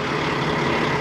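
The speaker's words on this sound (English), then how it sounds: "Testing out the truck in these hills" A loaded semi truck rolls along hilly back roads, its engine droning steadily and loud from inside the cab, a dense continuous rumble with no talk.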